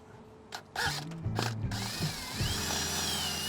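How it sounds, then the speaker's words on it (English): A power drill whirs in short bursts, then runs steadily with a rising and falling whine as it drills into a Ford F-150 truck bed while fitting a tonneau cover. "So let's drill this out real quick."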